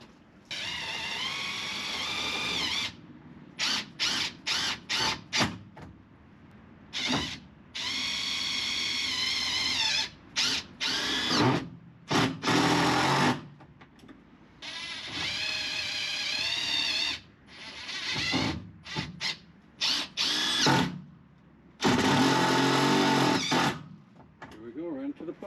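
A power drill drives fasteners into a porch post during a post swap, firing in repeated whirring bursts of a second or two with short gaps between them, close and fairly loud, with sparse talk alongside.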